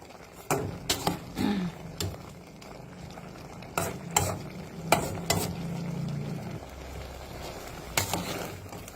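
Pieces of mackerel stir-fried with vegetables in a pan for a bamboo-shoot curry, with repeated loud scraping and clattering spatula strokes over a low, steady sizzle, close up.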